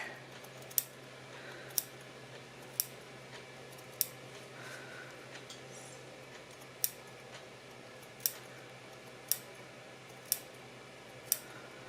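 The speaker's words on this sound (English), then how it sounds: "And just snip around, snip, snip, snip, snip." Scissors snip around the seam stitching of a reversible McCall's 2004 dress in fabric: about ten quiet, crisp cuts spaced roughly a second apart, alone against soft room noise.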